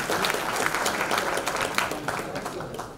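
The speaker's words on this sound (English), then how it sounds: "please have a big round of applause" An audience at a CEO summit in Pakistan gives a big round of applause, with sustained, dense clapping that fades slightly toward the end.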